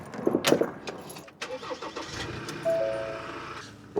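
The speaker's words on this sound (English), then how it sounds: "I'll quickly go and start the van" A campervan's engine cranks and catches, followed by a steady idle with a faint whine, close by, with no voices.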